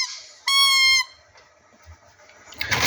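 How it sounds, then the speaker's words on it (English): Squeaky toys at an auction give one sharp, bright, high squeak, loud and close, followed by faint handling noise and a brief rustle. "Some squeaky toys."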